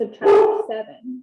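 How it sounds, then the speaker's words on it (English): A single short bark from a pet dog sounds close by and fairly loud. A voice is talking at the same time. "sorry about my dog"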